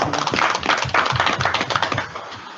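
An audience gives a round of applause at a talk or presentation event, with dense, continuous clapping throughout at a moderate level and no voices over it.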